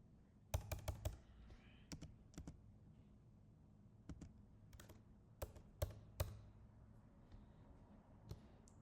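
Keys clatter on a computer keyboard while someone types a colour value in an HTML and CSS coding session, in irregular bursts of quiet, close keystrokes separated by short pauses, with no talking.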